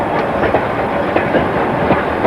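A six-wheeled 3F steam locomotive hauling a freight train on a local line through Nottinghamshire's coalfields, heard close and loud as a steady rolling rumble with rhythmic clickety-clack of wagon wheels over rail joints.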